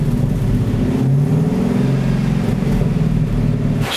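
Corvette engine pulls hard in fourth gear, a loud, close, continuous rumbling drone that climbs steadily in pitch for several seconds before easing off at the end.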